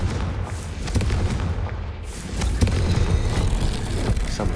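A Confringo blasting-spell explosion in the Hogwarts Legacy video game, a loud, booming burst followed by a rumbling blast that swells again partway through, with no talk over it.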